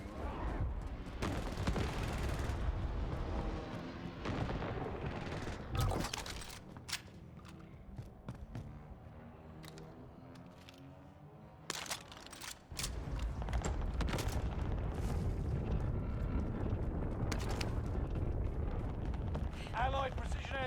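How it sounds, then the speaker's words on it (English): An allied precision airstrike in Call of Duty Warzone, heavy rumbling blasts and sharp gunfire bursts loud in the foreground, easing to a quieter stretch midway before the explosions return. "Allied precision airstrike incoming."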